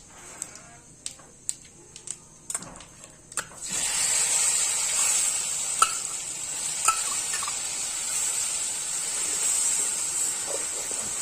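Garlic-ginger paste frying and sizzling in a pan for a Chhattisgarh-style desi chicken dish, starting with a few sharp stirring clicks, then a steady loud hiss that holds to the end with occasional scrapes of a spoon.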